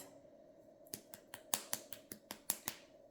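Rapid rattling clicks from a small bottle of gel nail polish being shaken, roughly a dozen sharp ticks in an uneven rhythm after a short quiet start, close and soft.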